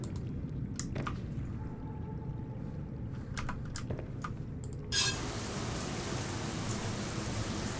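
A shower in Subnautica: Below Zero switches on partway through, a sudden steady hiss of running water that continues to the end, after a stretch of scattered key taps.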